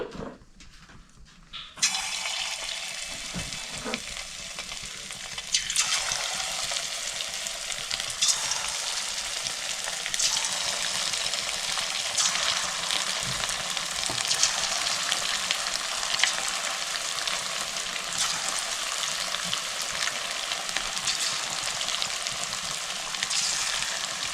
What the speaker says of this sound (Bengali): একবারে ভাজবো না, দুবারে ভেজে নেব।